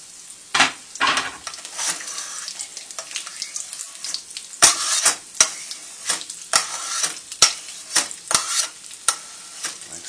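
Beef fat fries and sizzles in a pan as it renders down into tallow, a steady crackle broken by sharp scraping stirs and bursts of spitting, close and alone with no voices.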